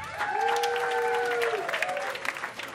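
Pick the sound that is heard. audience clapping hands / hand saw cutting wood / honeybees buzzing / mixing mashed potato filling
audience clapping hands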